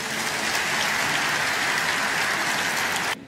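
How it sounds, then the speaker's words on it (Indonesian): A church congregation claps together in a dense, steady patter of applause that stops abruptly after about three seconds. "Yang percaya kasih tepuk tangan untuk Tuhan."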